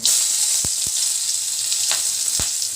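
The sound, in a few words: whole garam masala spices sizzling as tempering in hot oil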